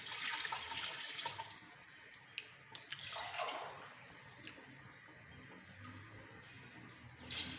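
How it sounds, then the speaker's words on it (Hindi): Water poured into a pot for chicken matar pulao, a faint splashing rush that swells and fades with small drips and clinks, quiet and close. "हम 5 ग्लास पानी ऐड करेंगे।"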